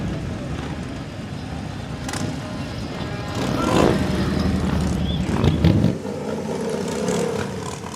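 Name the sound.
motorcycles riding by in a parade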